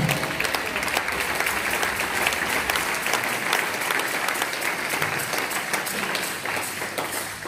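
A church congregation applauds the Lord at a seminar, with loud, sustained crowd clapping filling the room evenly for several seconds and no clear voices above it.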